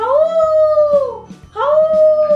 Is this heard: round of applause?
no